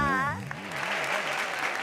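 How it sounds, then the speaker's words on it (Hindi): Audience clapping at a Hindi stand-up comedy show, opening under a sustained voice, then continuing as a steady, moderately loud patter of applause. "इनके लिए जोरदार तालियां।"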